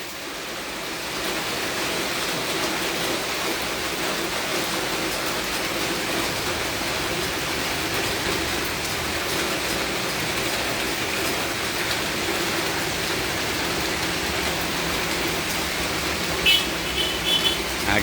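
Heavy morning rain keeps up a steady, broad rushing roar from start to finish, constant and fairly loud, with no talk over it.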